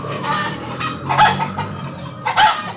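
Hens cluck and squawk nearby in two loud bursts over a soft murmur of background clucking.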